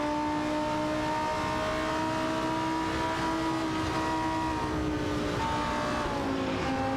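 Race car engines in an AI-driven racing video game, a steady loud high-pitched whine of several cars at speed, pitch sliding as they shift and pass, continuous throughout with no voices.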